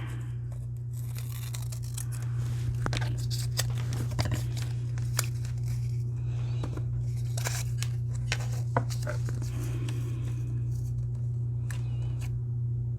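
Scissors snip through paper during a scrapbooking and paper-craft tidy-up, a series of close, crisp cuts spread through the clip over a steady low background hum.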